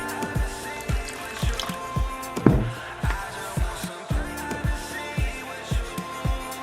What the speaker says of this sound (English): Get in there and mix that thing up. You want it to be pretty loose, but you want it to be well combined.